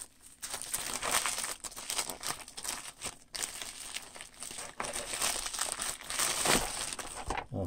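Plastic packaging and Ziploc bags around Sunnysky KV motors crinkle and crumple close up, continuous rustling with a few louder crunches and short pauses.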